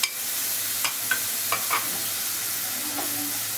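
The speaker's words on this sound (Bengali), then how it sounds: "এবার আমি এখানে 1/2 চামচের মতো আদা রসুন বাটা দিলাম।" Onion frying in a pan with ginger-garlic paste, a steady close sizzle broken by a few sharp spatula scrapes and knocks as it is stirred.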